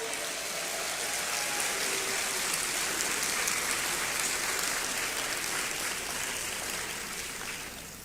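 Steady, dense applause from a large audience at a Ghanaian citizenship ceremony, a continuous wash of clapping holding level for several seconds before easing slightly at the end, with no voices over it.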